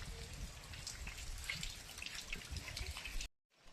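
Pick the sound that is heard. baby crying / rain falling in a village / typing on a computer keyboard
rain falling in a village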